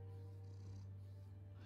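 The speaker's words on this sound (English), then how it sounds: "I must pet the cat." A cat purrs softly in the Batman Telltale Series game, a steady low rumbling drone that is faint and continuous, with no other sound over it.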